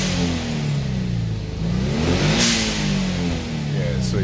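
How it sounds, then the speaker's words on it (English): A Subaru WRX engine revs up and settles back down close by, with rising and falling tones and a short airy whoosh from the blow-off valve venting midway. "And then now you can actually hear the blow valve sound."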